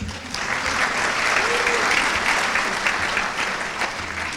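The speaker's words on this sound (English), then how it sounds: "why don't you guys give yourself a round of applause?" Students at a senior honors convocation applaud themselves, a dense, steady wash of many hands clapping that fills the room for several seconds without a break.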